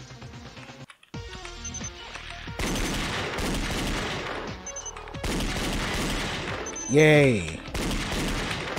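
Rapid gunfire bursts from the shooting mechanic in the video game Danganronpa Another, crackling over busy background music, with a short cheering voice near the end.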